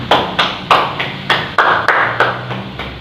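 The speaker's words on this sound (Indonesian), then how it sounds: "mari kita sama-sama beri tepuk tangan yang meriah untuk kita semua" A class clapping together in an Islamic jurisprudence lesson, a few sharp hand claps in a slow, roughly regular rhythm, close and fairly loud, with no talk.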